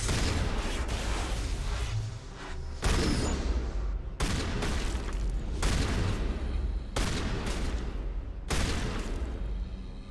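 Shotgun blasts in Mass Effect Legendary Edition, a handful of loud, heavy booms spaced a second or two apart, each leaving a dense rumbling tail that fills the gaps between shots.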